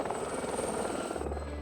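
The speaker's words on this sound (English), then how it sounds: "The Gazelle may be a small helicopter" A small Gazelle helicopter flies, its rotor giving a continuous fluttering drone with a thin high whine, moderately loud and steady over under two seconds.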